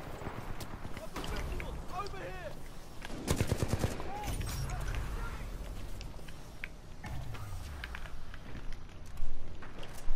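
Mastiff shotgun blasts in the video game Titanfall come as heavy, punchy bursts mixed into busy in-game combat noise, with people talking over the action.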